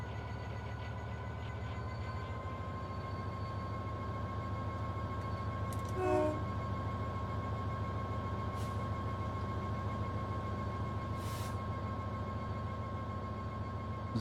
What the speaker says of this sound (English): You can definitely tell the train's working,